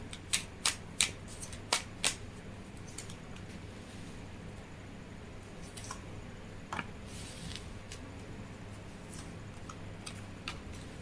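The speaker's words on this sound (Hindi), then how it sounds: "अब हम थर्ड पार्टी के कार्ड निकालेंगे।" Tarot cards being shuffled and drawn for a reading, a quick run of crisp snapping flicks at first, then sparse soft clicks and slides over a quiet room hum.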